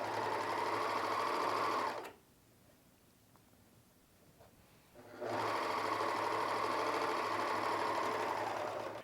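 A Husqvarna Viking or Pfaff serger runs fast while sewing piping and trimming fabric, a steady close whir that stops for about three seconds, then starts again at the same speed.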